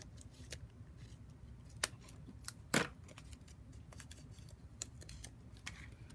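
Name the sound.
cutting a piece of dimensional adhesive for card making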